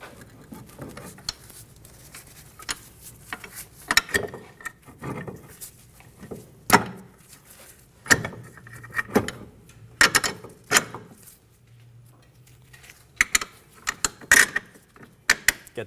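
Bottom bolt being started into a front steering knuckle on a 2008-2015 Scion xB, with irregular metallic clicks, clanks and scrapes of hardware and tools, close and fairly quiet between sharp knocks.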